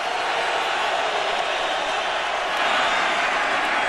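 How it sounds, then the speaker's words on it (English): Dense, steady roar of a football stadium crowd rising during the third quarter of a 2007 Philadelphia at N.Y. Giants game as fans get loud for the defense, a continuous wash of noise with faint commentary underneath. "Crowd noise begins to build for the D halfway through the third quarter."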